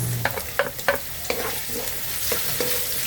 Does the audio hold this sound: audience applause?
no